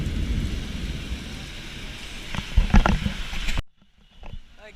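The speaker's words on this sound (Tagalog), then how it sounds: "Sobrang lakas ng ulan talaga." Heavy rain pours down at a Caltex gas station, a dense steady hiss with thumping gusts and splashes near the end before it cuts off abruptly to a quieter background.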